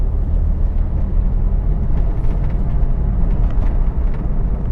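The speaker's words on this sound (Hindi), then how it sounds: "देखो साउंड ज़्यादा करने लग गया इंजन" Car engine droning low and steady inside the cabin after a shift into third gear, a loud rumbling hum that holds without clear rises, no voices over it.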